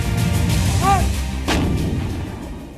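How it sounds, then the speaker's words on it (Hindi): Artillery shelling on the Kargil front line brings a heavy sharp boom over a continuous low rumbling roar of distant gunfire, loud and dense throughout. "ये वो जगह है जहां दोनों पक्षों के बीच लगातार बिना रुके कई दिनों से गोलाबारी हो रही है और गोलीबारी के धमाके यहां एक आम सी बात हो गई है"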